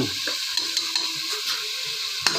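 Spices frying in oil for jackfruit seed dal, stirred with soft scraping strokes over a steady low sizzle, close and moderately quiet, with no talking.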